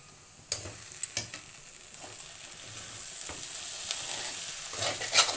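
Potatoes fry in a pan for a vegetable and egg omelette, a steady close sizzle broken by several sharp scrapes and clacks of stirring.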